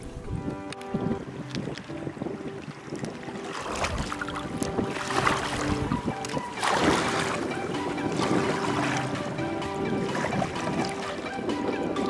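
Kayak paddling on open water during a river rafting trip near a water tower at dusk, steady splashing strokes under constant wind noise, fairly loud and continuous.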